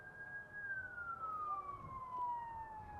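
A siren wails faintly in the distance, its tone sliding slowly downward over a steady background hum of traffic, with no voices present.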